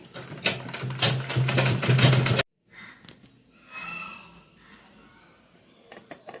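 A household sewing machine stitches tucks into fabric for a vegetable organiser bag, whirring in a rapid rhythmic burst for about two seconds before stopping, followed by quiet handling noises and faint breathing.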